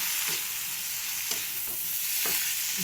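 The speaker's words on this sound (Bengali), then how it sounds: "সুন্দর ভালো করে নেড়ে চেড়ে অপূর্ব লাগবে খেতে।" Banana flower stir-fried in a pan: a steady, bright sizzle with several soft scraping strokes of a spatula spaced through it, close and fairly quiet, with no talking.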